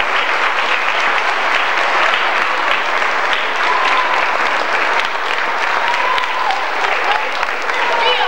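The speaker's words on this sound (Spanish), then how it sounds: "¡Fuerte el aplauso!" An audience at a school end-of-year recreational show applauds loudly and continuously, dense clapping filling the room with a faint murmur of voices underneath.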